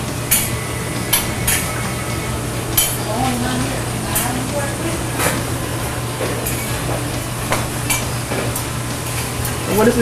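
Onion and pepper cook down in a pan on a diner flattop, a continuous sizzle under a low hum with repeated sharp clinks and scrapes of utensils; no voice stands out.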